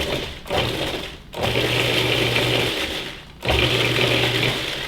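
A food processor whirs in two pulsed bursts while mincing pâté ingredients, each a loud steady buzzing drone separated by brief pauses, with no talk.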